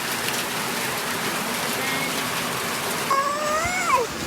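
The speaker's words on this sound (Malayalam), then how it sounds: "മഴ പെയ്ത് ഭയങ്കര തണുപ്പ്, ഭയങ്കര കാറ്റും മഴയാണ്." Steady, dense rain with wind hisses throughout, with a brief high chirping sound near the end; no voices.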